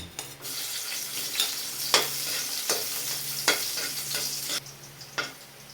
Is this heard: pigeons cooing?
no